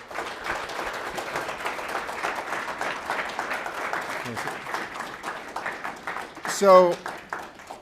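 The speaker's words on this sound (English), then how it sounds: "give them a big round of applause" An audience at a Power Network Group live event claps in a sustained round of applause, moderately loud and steady throughout, with a voice briefly rising over it near the end.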